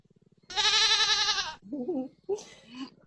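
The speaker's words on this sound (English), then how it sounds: "Ooh, a goat." A loud, wavering goat bleat from a podcasting app's sound-effect library, about a second long, followed by short voiced sounds; a faint pulsing tone precedes it.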